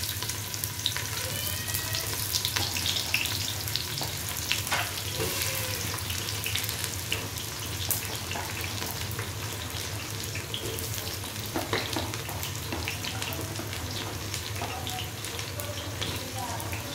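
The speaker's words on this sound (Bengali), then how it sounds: "যেখানে পেঁয়াজ দিয়ে দিচ্ছি," Onions frying in hot mustard oil for a khichuri, a steady dense crackle and sizzle running throughout, close and fairly loud, with occasional clinks and faint background sounds.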